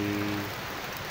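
Rain falls in a dense, steady hiss that fills the short stretch without a break.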